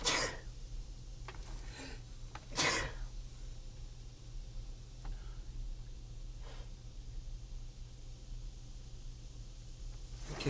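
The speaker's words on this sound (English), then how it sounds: "All of a sudden, I'm sneezing." A person sneezes sharply a couple of times near the start, with smaller snort-like bursts later, over a faint steady hum in a quiet room.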